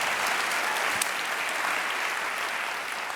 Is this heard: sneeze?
no